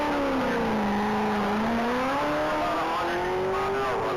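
A 2015 Corvette Z06 on a mile-long top speed run at a Texas racing event, its engine droning loud and steady with a pitch that slides down then climbs as it pulls through the gears.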